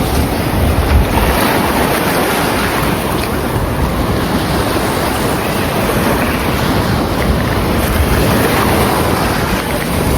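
Rough sea at a tidal pool in Casiguran, Aurora, as surf crashes and churns in a loud, unbroken roar, with strong wind buffeting the microphone throughout.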